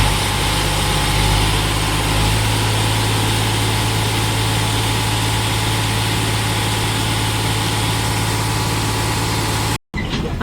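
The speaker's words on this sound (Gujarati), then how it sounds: "માટી નાખીને ટ્રેક્ટર જતું રહ્યું છે." A farm tractor's engine runs while it dumps a load of soil. The low, droning rumble is loud and close and holds steady throughout, with a brief cut-out just before the end.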